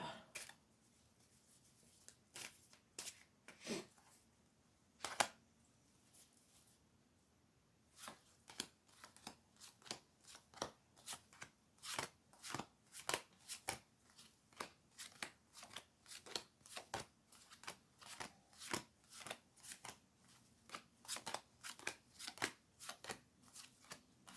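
Tarot cards shuffled close by: a few sparse riffling bursts at first, then a steady, fast run of crisp card-on-card flicks and snaps repeating through the rest.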